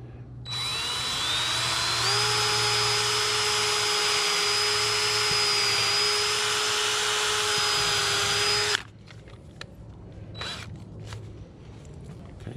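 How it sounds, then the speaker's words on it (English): A power drill drives a 4-inch screw into a backyard greenhouse end wall, a loud steady motor whine rising in pitch and holding for about eight seconds before stopping abruptly, followed by faint handling knocks. "So I'm going to set a 4-inch screw in that one."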